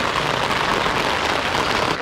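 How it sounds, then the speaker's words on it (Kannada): Heavy rain pours at night beside the Colosseum in Rome, a dense, steady hiss of drops striking the ground that stays loud and even throughout, with no voices. "ಜೋರ ಮಳೆ ಬರ್ತಾ ಇದೆ"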